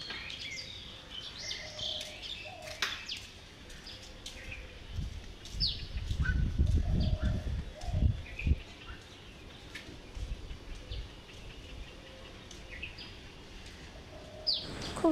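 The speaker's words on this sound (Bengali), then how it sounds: "এইদিকে তোমাদের পাখির আওয়াজটা শোনায়" Birds chirp and tweet beside an empty, sunny road, with scattered calls at moderate distance over a soft outdoor hum and a brief burst of rumbling noise midway.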